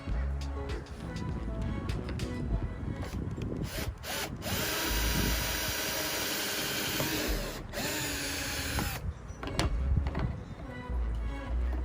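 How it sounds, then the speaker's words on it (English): A power drill whirs loudly in repeated bursts while drilling holes in a kayak, revving up and winding down, with one long sustained run through the middle. "Now that we have our holes drilled"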